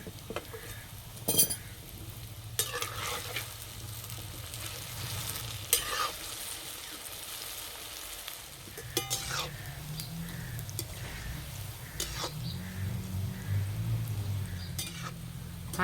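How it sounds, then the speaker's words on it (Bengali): Sweet potato pantua frying in hot oil on low heat, a gentle bubbling sizzle with intermittent clinks and scrapes of a utensil stirring in the pan, close by. "হালকা আঁচে এইভাবে একটু সময় ধরে ভেজে নেব, তাহলে ভিতর পর্যন্ত খুব সুন্দর ভাজা হবে।"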